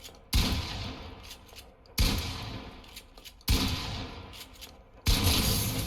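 Four loud shotgun blasts fired from a car in the Xentari video game, spaced about one and a half seconds apart, each followed by a decaying rumble.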